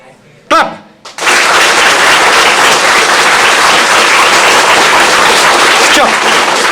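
Students in an engineering orientation class break into loud, sustained clapping that fills the room right after a brief spoken prompt and continues steadily to the end.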